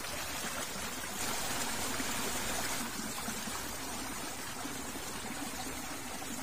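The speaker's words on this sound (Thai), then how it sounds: "เสียงน้ำไหลอยู่ครับเสียงน้ำยังไหลอยู่" Water running steadily at a fish trap during low water, a continuous broadband rush with a brighter burst of flow in the middle, no voices present.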